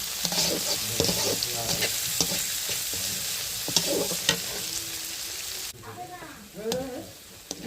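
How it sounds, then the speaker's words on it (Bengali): Chopped onions sizzle loudly in hot oil in a pan, with the rhythmic scrape and clatter of a spoon stirring them for a home chicken curry. A voice speaks quietly at times. "এই তো প্রায় পেঁয়াজটা ভাজা ভাজা হয়ে আসছে।"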